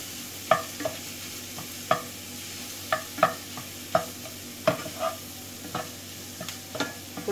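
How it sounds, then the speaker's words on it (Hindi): Paneer is stirred into a kulcha stuffing in a pan: a quiet run of spoon scrapes and taps repeats about once a second over a faint low sizzle. "अब हम इसमें ये अपना पनीर मिला देंगे और अच्छे से इसको मिक्स कर लेंगे।"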